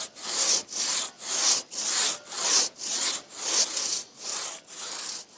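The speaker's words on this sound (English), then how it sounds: "Then it's back to sawing the other side to meet up with the cut." A hand saw cuts through a tree trunk to fell it on a Victorian-style farm, rhythmic rasping back-and-forth strokes, about ten even pulls, close and loud with no talk.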